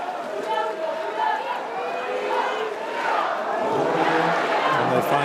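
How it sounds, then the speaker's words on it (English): A crowd roars and cheers steadily at a women's water polo match between Italy and Hungary in Budapest, a broad continuous swell of many voices beneath a commentator's talk. "The crowd are roaring already with their team 2 goals to the good."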